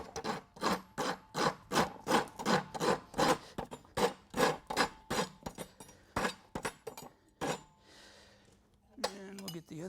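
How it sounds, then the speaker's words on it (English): A farrier's rasp files a horse's hoof while shoeing, working along the collateral sulcus in quick rhythmic back-and-forth strokes, about a dozen loud scrapes in a row before a pause and a final few strokes. "I'm just going to work the collateral sulcus here with the rasp."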